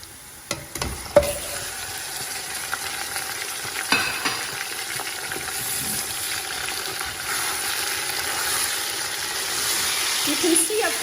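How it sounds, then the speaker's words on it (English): Big pieces of meat fry and sizzle in a pan of browned oil for Kashmiri Kabuli Pulao, a steady hiss with scattered clinks and pops from stirring. "now I'm going to add the meat so you can fry the meat in this."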